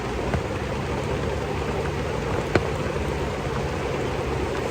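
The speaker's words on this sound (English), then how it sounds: "Still raining." Rain falls steadily outside at a state park campsite in Kentucky, an even, moderate hiss of drops with one faint tap partway through and no talking.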